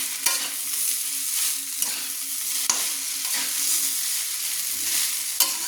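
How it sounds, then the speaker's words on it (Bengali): Chowmein noodles being stirred and tossed with fried vegetables in a hot wok over medium flame, a steady loud sizzle with periodic scraping strokes of the spatula, no voices. "আবার আমি নেড়ে নিচ্ছি।"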